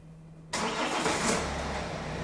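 A Hyundai i30 car engine cranks and catches, opening with a sudden loud burst after a quiet half second, then settling into a steady, close idle rumble.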